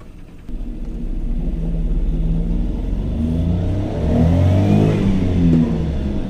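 Revving engine of a 1992 Mazda Autozam AZ-1, a high-revving small kei sports car, loud and close, rising in pitch with a steady rumbling drone that swells louder in the second half, no talk.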